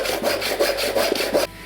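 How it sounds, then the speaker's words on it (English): A hand saw cuts a clamp slot into a wooden bike chain part, with about six quick, even rasping strokes back and forth, close and loud, then stopping abruptly. "I want to cut down here to be able to clamp it"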